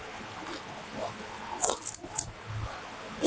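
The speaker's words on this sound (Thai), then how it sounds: "ทุกคนฟังฟังเสียงเคี้ยวนะคะ" Crispy Thai mackerel with chili paste is bitten and chewed: a few sharp crunches, with louder clustered bites toward the end, close up and with no talk.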